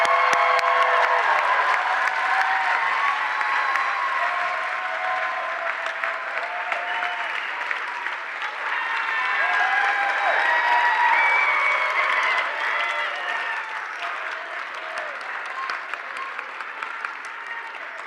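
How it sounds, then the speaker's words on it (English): Sustained applause from an audience honoring youth award nominees at a mayor's awards ceremony, a steady wash of many hands with occasional cheers and whoops, fading slightly toward the end. "Let's give them all a big round of applause."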